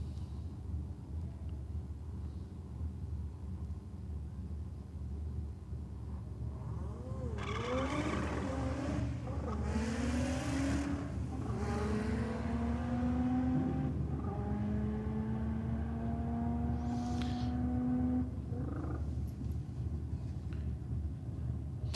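A earlier-model Mazda RX-7 and a Proton launch down a drag strip, engines revving hard through rising gear-change sweeps at a distance, tires squealing briefly, then fading after the run.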